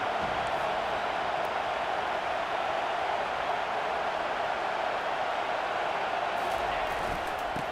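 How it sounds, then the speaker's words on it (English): Dense, steady roar of a stadium crowd in a college football video game on third down, a loud and constant wash of noise with no distinct voices standing out. "Decibels rising as the crowd gets behind this defense on third down."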